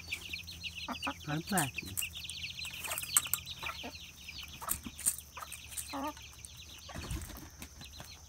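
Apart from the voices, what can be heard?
chicks clucking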